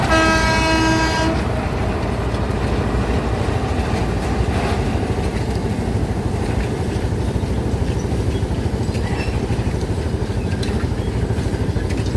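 A loud train rumbles steadily nearby, beginning with a short horn blast, then continuous heavy rolling noise and clatter of rail cars, hauled by a Hokuriku railway locomotive.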